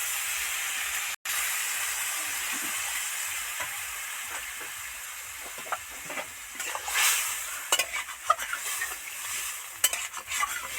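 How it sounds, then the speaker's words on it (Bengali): Steady frying sizzle of vegetables in a pan for spinach curry, with occasional scraping and stirring clatter, fairly close, no voices. "বন্ধুরা সব ভাজা হয়ে গেছে, এবার জল দিয়ে দেব।"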